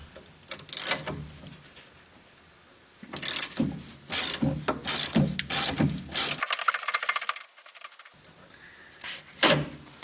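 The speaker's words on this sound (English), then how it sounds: "Should use the wrench on this side." A ratchet wrench working a 17 mm through bolt on the strut mount of a Mitsubishi Eclipse lower control arm, sounding as bursts of quick metallic clicking in short strokes, close and loud, with pauses between.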